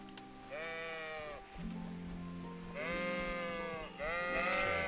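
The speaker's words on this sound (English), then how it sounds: "Watch out, sheep." Sheep bleat three times in the medieval role-playing game Kingdom Come: Deliverance, each a wavering, moderately close call over a faint steady background drone.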